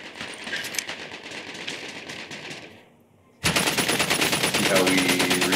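An automatic rifle in the VR game Medal of Honor: Above and Beyond fires long rapid bursts, close and loud, breaking briefly before another dense stream of shots.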